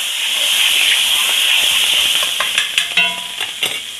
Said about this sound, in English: I'm going to just drop some of my minced garlic in the pan, and I'm going to give it a quick stir around